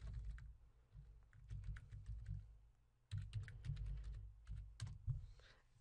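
Faint, steady typing on a computer keyboard as a chat message is entered, with quick light key clicks tapping in uneven runs over a low background hum.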